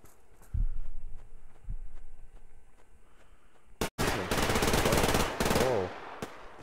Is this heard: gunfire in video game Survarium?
yes